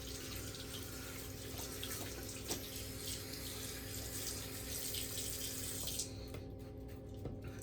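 Hot water running from a bathroom tap before a shave, a steady close hiss of flowing water that cuts off near the end.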